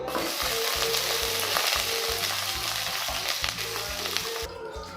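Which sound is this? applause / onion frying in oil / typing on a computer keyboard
onion frying in oil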